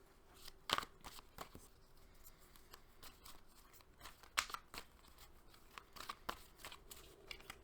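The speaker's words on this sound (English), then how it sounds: "And I'm gonna shuffle the cards." Soft papery riffles and flicks of tarot cards being shuffled by hand, several quick bursts spaced irregularly and heard close and quiet with no talking.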